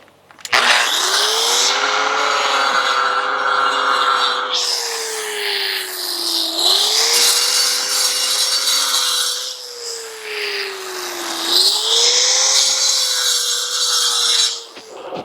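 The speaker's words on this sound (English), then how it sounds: "We'll take the diamond tip saw and we're going to score the edge." A diamond-tip saw scores along the edge of brick pavers, a loud continuous gritty whine with a rising and falling tone as the blade moves through the masonry, held nearly the whole time with brief dips in pitch.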